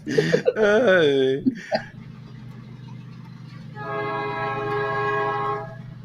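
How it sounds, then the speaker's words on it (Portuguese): A train horn sounds in a sustained, layered blast, distant but clear, after a voice speaking loudly at the start, with a low rumbling hum underneath. "Está passando um trem?"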